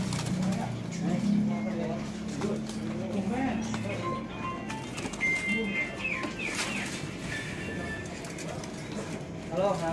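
Many oriental magpie-robins in cages at a bird shop, a busy layer of chirps, whistles and short calls, with people talking over the birdsong and cooing pigeons mixed in.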